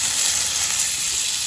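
Snow melting in a pot set over a campfire gives off a steady, close sizzling hiss that holds evenly for the whole moment, with no voices over it.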